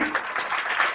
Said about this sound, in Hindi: चलो तनिष के लिए सब तालियां बजाइए